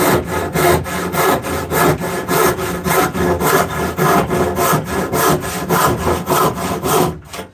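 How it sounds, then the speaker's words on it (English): A hand saw cuts through wood in steady, regular back-and-forth strokes, about two per second, close and loud with no talking. "The saw is meant to work."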